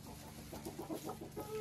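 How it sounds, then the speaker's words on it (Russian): A rooster's low, rhythmic clucking calls, repeated in short bursts close by, coaxing a hen toward the nest to lay eggs on a dacha backyard poultry run. "наш петух зовет курицу нестись"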